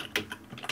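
Fingers tap a computer keyboard in a quick burst of a few crisp, close keystrokes with uneven spacing.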